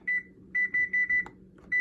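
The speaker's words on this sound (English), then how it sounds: "put my timer for 5 minutes" A kitchen timer beeps in close, loud pulses: one short beep, then a run of four quick beeps, then another, evenly spaced with a clunk partway through and no talking.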